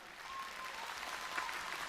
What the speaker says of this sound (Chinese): 让我们掌声也多多的鼓励一下2位小选手。